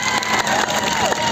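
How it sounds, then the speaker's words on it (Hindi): A crowd at an outdoor tribal gathering for a statue installation in Jobat claps and cheers loudly and steadily, a dense wash of applause with shouts rising over it throughout. "इसलिए इन कलाकारों के लिए भी जोरदार ताली बजा दीजिए"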